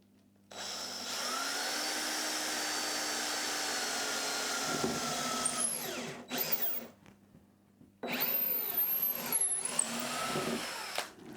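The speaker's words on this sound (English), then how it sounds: "going to drill my hole from the underside." A power drill bores a hole up through a board from the underside while an aquascape shrimp bowl is being built. Close, steady whirring runs for several seconds, then cuts into short bursts and stops with a pause between them, with no talking.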